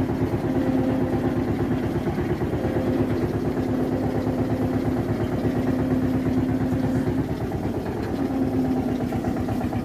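An old Eicher tractor hauling a heavy load of about 65 quintals of sugarcane chugs steadily with a close, continuous low engine rumble and rhythmic pulsing, with no talk over it.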